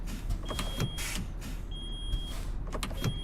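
Pneumatic air-brake system of a lorry in Euro Truck Simulator with low brake air pressure, steady tonal whines and intermittent hissing puffs over a constant engine rumble.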